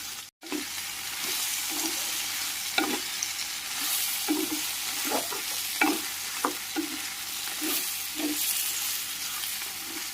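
Onions frying in a pan with tamarind, curry leaves, turmeric and salt for an onion chutney: a steady sizzle runs throughout, broken by repeated scraping stir strokes, close and alone with no talk.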